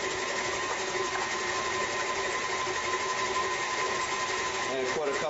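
A stand mixer fitted with a beater blade hums steadily at reduced speed, a continuous motor drone with faint whine, with a few brief scraping bumps near the end.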